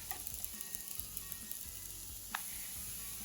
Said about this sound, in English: I'm going to add in 1 onion finely chopped, cook this for a couple of minutes till they are nice and soft.